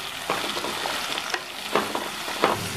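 Onions being stirred as they fry in a pan, giving a steady sizzle with a few soft scraping strokes of the spoon.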